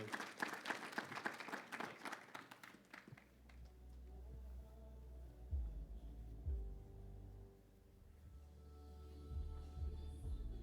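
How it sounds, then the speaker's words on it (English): A church congregation gives a brief burst of applause for girls who spoke up front; the clapping dies out after a few seconds, leaving a quiet room hum with faint taps. "let's give a hand clap for the girls for their boldness to come up here and talk to you"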